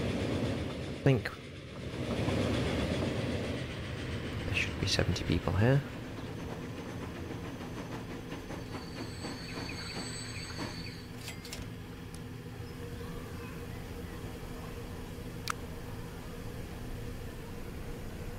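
Trains run at full capacity in the video game Transport Fever 2, with a steady low rumble, a few brief horn-like tones and a clicking passage near the start, all under someone talking.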